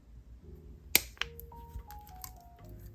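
Wire cutters snipping off excess jewelry wire while forming a bead loop, a single sharp near click followed by a smaller second snap, then faint handling in a quiet room.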